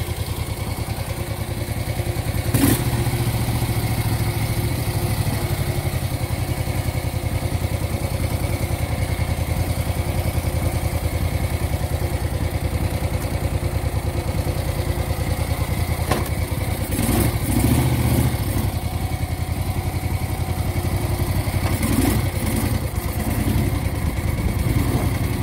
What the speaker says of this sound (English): This is such an insanely comfortable bike. It sounds great.